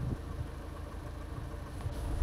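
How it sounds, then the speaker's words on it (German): A parked car's engine idling in a cold lakeside spot with snow and ice, a faint steady low hum with no talk. "Ich werde jetzt mal so ein bisschen den Motor laufen lassen, weil ich brauche ein bisschen Strom."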